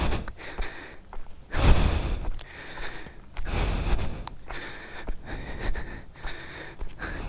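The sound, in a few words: heavy panting while hiking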